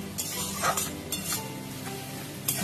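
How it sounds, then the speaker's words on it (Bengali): Dried lotte fish (loitta shutki) sautéed with spices in a pan, giving a steady moderate sizzle with occasional spatula scrapes and light clinks, close and without talk. "মাছটা দিয়ে আরো ভালো করে কষে নেব বন্ধুরা।"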